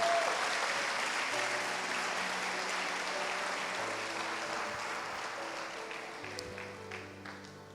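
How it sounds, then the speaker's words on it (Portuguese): Church congregation applauding together, a steady broad wash of clapping sustained throughout and easing slightly toward the end, with faint music tones and murmuring voices beneath. "Dá um aplauso para Jesus nesse negócio aí."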